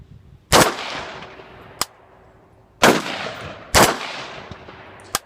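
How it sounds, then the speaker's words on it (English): An Arsenal SLR 104 rifle fires three loud, sharp shots at irregular intervals outdoors, each followed by a ringing decay, with a fainter metallic click between them. "This gun's really a pleasure to shoot, very lightweight."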